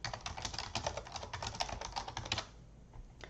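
Rapid, uneven keystrokes clatter on a computer keyboard as someone enters text into a records system, close and steady for about two seconds before stopping.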